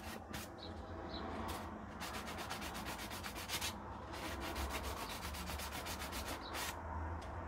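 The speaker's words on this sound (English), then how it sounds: "Got a sanding block here" A sanding block is rubbed back and forth in quick, even strokes, giving a rasping scrape near the microphone while working on parts of a Philips VR2022 video recorder, with no talking.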